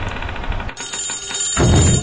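Telephone ringing in a horror video game, a bright electronic ring that sounds loud and close over a low ambient drone, followed by a deeper rumbling hit.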